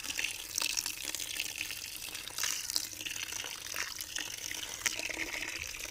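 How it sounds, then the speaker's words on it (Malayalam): Water pours onto garden plants in a continuous splashing stream, close and moderately loud, with small surges in flow and no voices. "നമുക്ക് വെള്ളം ഒഴിച്ച് കൊടുക്കാം ചെടികൾക്ക്"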